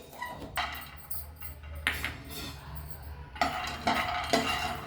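Stuffed brinjal (gutti vankaya) with cinnamon fries in a pan, a ladle scraping and clinking against the metal in several separate stirring strokes over a low sizzle.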